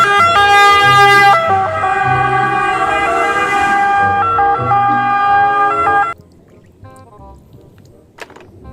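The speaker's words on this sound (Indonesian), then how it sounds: "Wow, ada mobil ambulan." A toy ambulance siren wails loudly in steady repeating electronic tones for about six seconds, then cuts off, leaving faint room noise and a small click.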